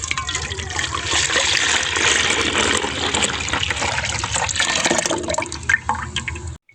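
One and a half kilograms of milk pours into a kadhai set on the stove. A loud, continuous gushing pour runs for several seconds, then cuts off abruptly at the end.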